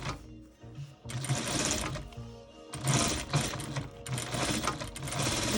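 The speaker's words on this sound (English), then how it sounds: "Do that nice top stitch." A sewing machine top-stitching the liner of a fabric face mask, running in rapid bursts that surge and pause, close and fairly loud, with no voices.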